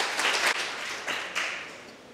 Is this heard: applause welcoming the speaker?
yes